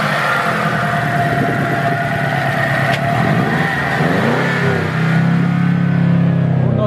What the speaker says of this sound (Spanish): La adrenalina está en la bulla, meterle al corte, el motor.